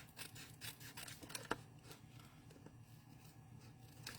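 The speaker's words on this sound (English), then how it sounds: "So I'm just going to trim around the envelope flap, like so." Scissors trimming around the flap of a paper envelope during card making, giving a quiet, steady run of soft snipping and rubbing cuts with one sharper snip partway through, heard alone.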